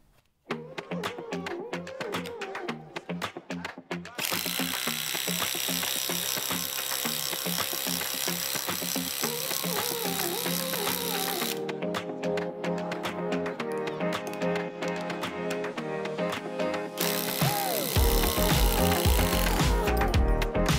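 A DeWalt DCF887 impact driver on speed setting 3, with a fully charged 8.0 Ah battery, hammers in a loud, continuous rattling burst, with a short burst first and then long sustained runs broken by a brief change in pitch.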